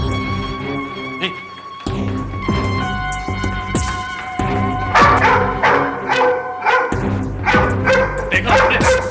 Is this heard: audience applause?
no